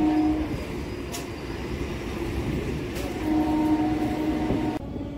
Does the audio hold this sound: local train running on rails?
yes